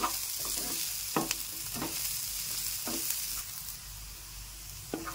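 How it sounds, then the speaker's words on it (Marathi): Chopped onion frying in a pan, a steady close sizzle broken by several sharp scraping stirs of a spatula, with no talk. "कांदा चांगला तळत आलेला आहे."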